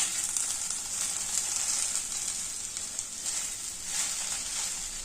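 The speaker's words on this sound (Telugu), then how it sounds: "లో ఫ్లేమ్లో పెట్టి వేయించుతాను" Okra frying in a pan over a low flame, a steady, bright sizzle that holds at an even level throughout with no voices.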